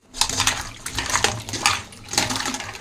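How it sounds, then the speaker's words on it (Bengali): Cut pieces of kham alu (yam) are washed in water by hand in a bowl, giving repeated splashing and sloshing with light clinks of a utensil, close and fairly loud, with no talk. "এবার জল দিয়ে ধুয়ে নেব"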